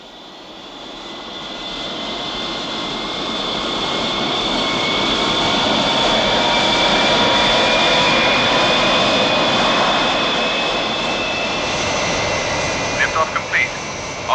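A rocket engine roars at liftoff in a TV science-fiction scene, a loud, steady broadband rumble that swells to a peak and then holds, with a few brief clicks near the end.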